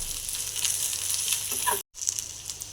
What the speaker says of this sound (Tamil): அதோட எடுத்து வச்ச தேங்காய், கருவேப்பிலை, இதை நல்லா வதக்கிக்கலாம்.